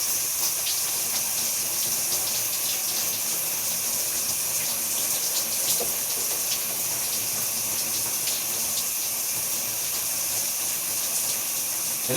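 Steady shower water running and splashing, a constant moderate hiss with faint scattered droplet ticks throughout and no talking.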